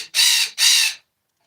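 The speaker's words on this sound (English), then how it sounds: "You hear this bird, right?" Two loud, harsh bird calls outdoors, each lasting about half a second with a short gap between them, followed by silence.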